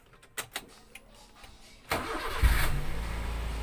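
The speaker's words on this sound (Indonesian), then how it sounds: "Kita lanjut coba hidupkan mobilnya. Oke, kita hidupkan mesinnya." A 2012 Daihatsu Luxio X used car is started: a few faint clicks, then the starter cranks briefly and the engine catches and settles into a steady, close idle, with no one talking.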